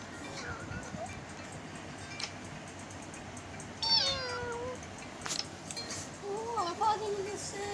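Cartoon cat meows from the Pazu video game, a short rising-falling call near the middle and another later, over steady background hiss with faint chirpy game tones.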